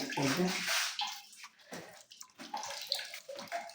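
Tap water runs steadily into a bucket in a bathroom, a fairly loud rushing splash at first that eases off as a voice talks over it.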